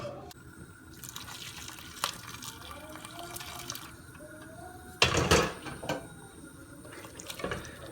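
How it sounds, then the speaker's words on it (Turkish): Water runs from a tap and is poured into a flour-and-water mixture for Turkish tripe soup, a steady close stream with a louder splashing burst midway and light drips around it. "Gelsin biraz daha su."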